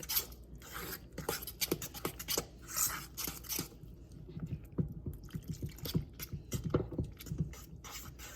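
Water trickling and dripping into flour while a palak paratha batter is mixed, quiet and close, with soft intermittent splashes and scraping.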